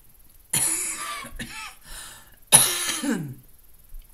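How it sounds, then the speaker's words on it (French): Two coughing fits, one after another, each a sharp burst trailing into rough throaty sounds, with quiet gaps between. "de temps en temps, j'ai encore un petit peu de toux"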